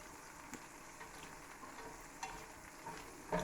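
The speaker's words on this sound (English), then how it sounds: "we fry it, it goes crisp, like a Parmesan tuile" Cheese frying in a pan, crisping like a Parmesan tuile, gives a steady soft sizzle with faint stirring clicks and a few small pops; no one speaks.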